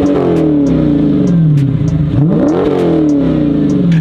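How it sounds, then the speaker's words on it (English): A 2023 Dodge Challenger R/T Scat Pack Widebody's V8 revs loud and close, rising and falling in rumbling sweeps. A dip and a fresh climb midway are followed by another long pull, with faint rhythmic ticking over the engine. "all of the rumbly performance V8 action that one could ask for"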